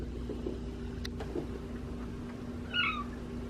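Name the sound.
cat meowing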